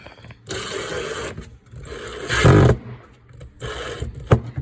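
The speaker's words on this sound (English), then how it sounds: "Now that I have those lined up, I can go ahead and take my screws and screw it to it" A power driver whirs in bursts as screws are driven into a slim Shaker cabinet door, with several buzzing runs of a second or so, one louder, separated by short pauses.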